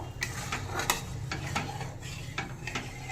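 A spoon stirs a thin, watery Bengali pabda fish curry gravy in a pot, giving half a dozen quick scraping strokes against the metal over a soft simmering sizzle.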